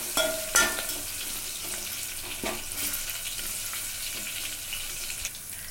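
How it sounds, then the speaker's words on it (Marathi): Asafoetida and crushed garlic fry in an oil tempering for colocasia-leaf gravy, a continuous close sizzle broken by a few sharp clinks of a spoon against the pan and soft stirring scrapes. "फोडणी थोडी आपण व्यवस्थित तयार करून घेऊया"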